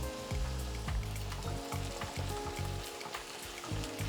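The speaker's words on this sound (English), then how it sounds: "We'll also add the ginger, green chilies and coriander roots, and let it saute and cook for 5 minutes" Onions, ginger, green chilies and coriander roots sauté in a pan for egg curry, producing a soft steady sizzle with scattered crackles and a few stirring sounds.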